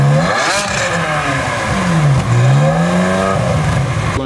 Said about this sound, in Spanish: Lo dejamos con este Ferrari 360 Modena en este tono gris y burdeos dentro